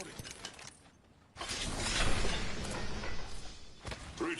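Mechanical clicks and ratcheting of a weapon being reloaded in a video game shooter, loud and busy over a dense, noisy game soundscape, with no voices over it.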